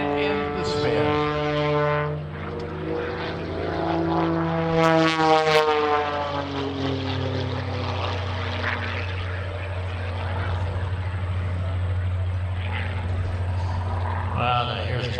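A propeller aerobatic airplane at an air show drones overhead through rolls and a spin, its engine pitch sweeping up and down before settling into a steady distant hum, with a commentator talking over it.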